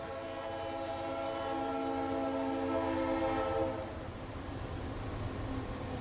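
A train rumbles past with a long, steady horn blast sounding over the rolling noise, then the horn stops while the rumble continues.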